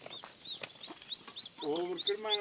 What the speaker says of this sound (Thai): ไก่ตัวนี้เราบ่เอาลูกซะนะฮะ